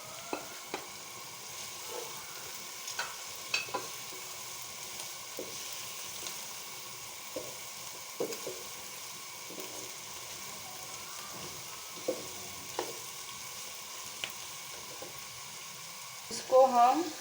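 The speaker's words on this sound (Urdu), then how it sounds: "اس کو ہم اچھی طرح سے فرائی کر لیں گے۔" Half a head of cabbage stir-fries in a pan for Chinese rice, giving a soft, continuous sizzle broken by regular clicks and scrapes of a spatula, with a louder clatter right at the end.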